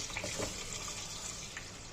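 Tap water runs steadily while brinjal is rinsed, a soft continuous splashing hiss at low level with no pauses.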